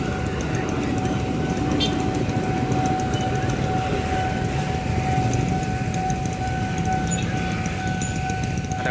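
KRL commuter train passing a railway level crossing in Indonesia, a loud continuous rumble of wheels on rails with a steady warning tone ringing over it and occasional metallic clacks.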